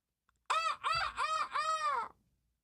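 A recorded bird call played back that sounds like a rooster crowing: four quick, loud, strained cries in a row, close and clear, with no talk over it.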